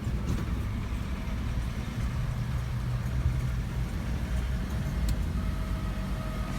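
A car rolls off a ferry on the Isle of Mull, heard from inside the vehicle as a steady low engine and road rumble with faint occasional knocks.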